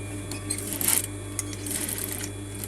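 A sewing machine stitches along the shoulder seam of a coat, where the front and back panels join. A short steady run of needle clatter swells briefly, then stays low and even over a background hum, with no talk.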